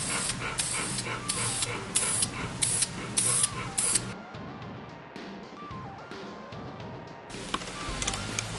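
Close aerosol spraying on a carbon fiber mountain bike frame during deep scratch repair gives a run of loud, rapid hissing bursts, then a quieter stretch before another long spray at the end, with no talk.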